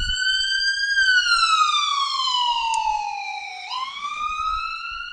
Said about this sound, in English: Yes, an ambulance did just go by,